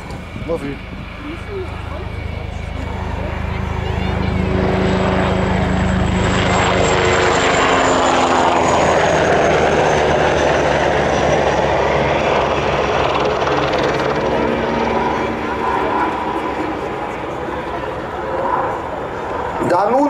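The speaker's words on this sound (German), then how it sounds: "the second Tiger now performs a reconnaissance flyby" A Tiger military helicopter roars past close by on a reconnaissance flyby at an air show, rotor and engine noise swelling to a sustained peak and then slowly fading, with a voice speaking over it.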